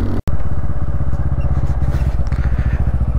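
Motorcycle engines, a Pulsar N160 and a Royal Enfield Hunter 350, drone loud and steady on a mountain road near Nathula Pass in Sikkim, with a continuous rumbling exhaust and rushing wind after a brief cut.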